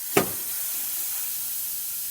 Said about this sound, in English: Let's release some of the steam coming out of it so we can pretty much check the steamer